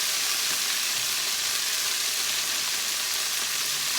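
Steak sizzles in olive oil in a hot pan, a steady, dense hiss that holds evenly throughout with no voices over it.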